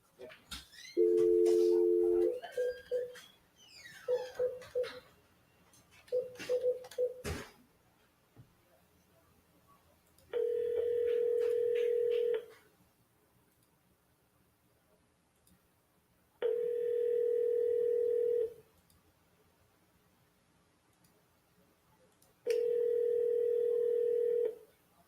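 A telephone call is placed, with a quick run of keypad dialing tones and some early speech, then three long, steady ringing tones spaced several seconds apart with quiet gaps between.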